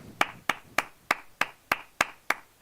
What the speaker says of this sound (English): It makes for a better clap anyway.